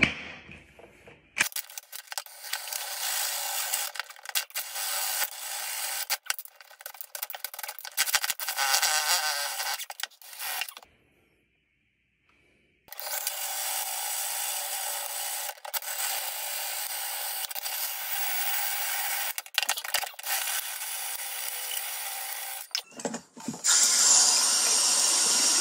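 A loud whirring, grinding mechanical noise from a drill-powered drain auger runs in long bursts, stops briefly, then resumes, with scraping and rattling as the auger spins inside a tub drain pipe.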